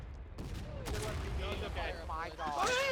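Artillery battery fire in the Civil War video game War of Rights, heard as several booming reports and a running fusillade, with people talking over it throughout.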